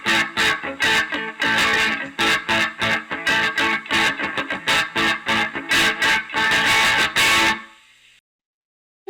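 Electric guitar played through a distortion pedal with level near 5, tone around 6 and distortion just under 5, strummed in loud, choppy rhythmic bursts that cut off abruptly near the end.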